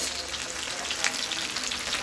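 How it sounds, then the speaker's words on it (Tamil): Fish frying in hot oil in a small kadai with curry leaves, a dense, steady close sizzle and crackle that carries on throughout with no talk. "கடாயில் எண்ணெய் ஊற்றிக்கிட்டு நல்லா கொஞ்சம் சூடான பிறகு நம்ம அப்படியே பொரிச்சு தான் எடுக்கிறோம்"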